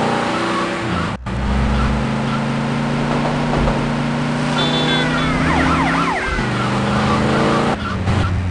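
Police sirens wail continuously in the video game GTA Liberty City Stories, rising and falling over the steady drone of a car engine and road noise, loud and close throughout.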